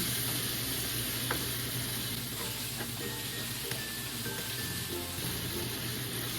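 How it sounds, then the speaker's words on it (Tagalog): Chicken pastil with bay leaves being stirred in a sizzling pan, a continuous quiet frying hiss with a few faint spoon scrapes and taps, steady and close, no talking. "Halu-haluin muna natin."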